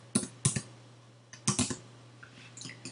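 Computer keyboard keys are tapped in quick clusters of sharp clicks with pauses between, close and clear over a faint steady hum, with no talking.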